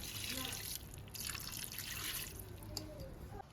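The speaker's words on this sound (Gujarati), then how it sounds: "આપણે એમાં 1 ગ્લાસ પાણી રેડવાનું છે" Water poured from a glass into a pot of cluster bean curry, a faint splashing trickle heard under a voice explaining.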